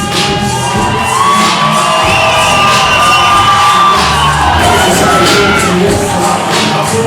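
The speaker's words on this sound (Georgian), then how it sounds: "აი ალექს ნატროშვილი ვესმის ხალხის ოვაციები" A crowd roars and cheers for MMA fighter Alex Natroshvili at a championship fight, a loud, sustained ovation with whoops and shouts rising and falling throughout, no talk over it.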